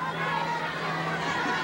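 Stadium crowd of about 10,000 pro wrestling fans in Dallas, Texas, seated on the floor and west grandstand, giving a steady, dense roar of murmuring and chatter throughout.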